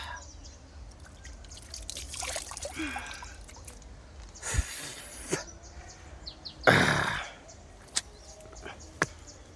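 Clean water trickling and dripping in a village in Kangemi is heard as intermittent drips and pouring bursts, a few sharp close splashes standing out over a steady faint background murmur.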